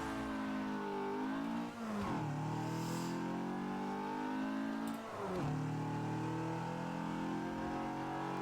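A race car engine in Forza Motorsport 7 revs hard and continuously, pitch dropping briefly at two gear shifts before climbing again, loud and close, no talking.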